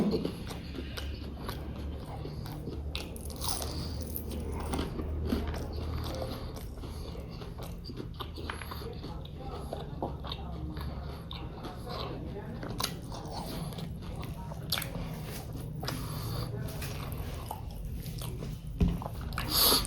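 Someone bites into and chews a crispy Assamese banana flower fritter, producing close, irregular crunches and wet chewing noises over a quiet background, with faint voice sounds now and then.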